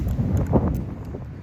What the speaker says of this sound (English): You can tell it gets pretty windy out here